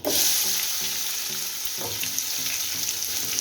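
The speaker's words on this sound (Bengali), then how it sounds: "এরপরে আমি দিয়ে দিব 1 বাটি পেঁয়াজ কুচানো।" Chopped onions for a beef curry sizzle loudly in hot oil, a steady broadband frying hiss with soft periodic scraping as they are stirred, close and continuous throughout.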